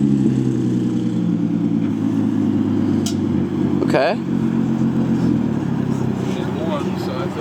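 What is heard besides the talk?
Nissan 350Z engine making a horrible sound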